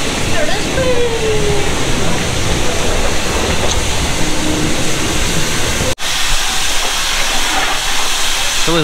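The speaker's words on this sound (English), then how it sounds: "Filling up with water." Water gushes from a tap into a motorhome tank on a cold day, a loud, steady hiss that runs throughout with only a brief dropout near the end.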